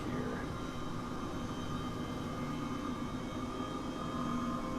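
A steady engine drone and rotor hum of an H135 helicopter in flight in Microsoft Flight Simulator, continuous and fairly loud throughout.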